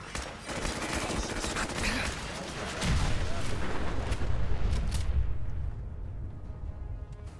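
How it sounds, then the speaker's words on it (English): Dense, rapid gunfire and booming explosions in the Fallout 4 video game crackle and rumble loudly for several seconds, a heavy blast landing midway before the barrage thins out. "Ah, yes, good old explosions."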